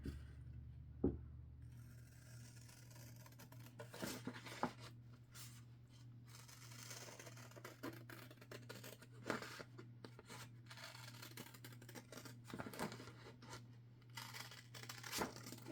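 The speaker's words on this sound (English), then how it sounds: "let's cut that out real quick" Scissors snip through paper being cut out for a hidden book spine, giving quiet, brief cuts and rustles close by over a steady low hum.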